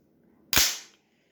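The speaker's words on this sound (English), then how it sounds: "we'll go ahead and charge our bolt forward" An AR-15 bolt is released and slams forward, producing one sharp metallic clack that rings out briefly in an otherwise quiet space.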